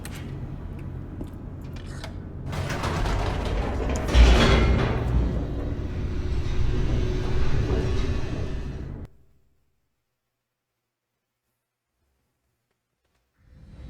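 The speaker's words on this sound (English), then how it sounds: "The elevator raced downward, plummeting towards an unknown fate." An elevator in the video game The Stanley Parable descends with a steady mechanical rumble and rattling clanks that swell midway and keep going for several seconds, then cut off abruptly into silence.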